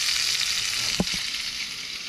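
A mahi-mahi (dorado) fillet frying in a pan gives a steady, close, hissing sizzle throughout, broken once near the middle by a couple of brief knocks, with no talk.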